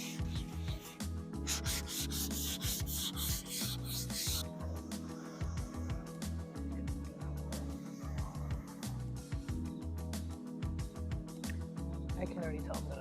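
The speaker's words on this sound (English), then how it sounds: "I'm giving it a quick sand in between the layers" Sandpaper rubs back and forth over a finished surface between coats in quick, close, rhythmic strokes with brief pauses, under occasional soft talk.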